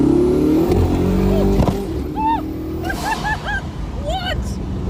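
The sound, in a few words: supercar accelerating hard, loud pop and turbos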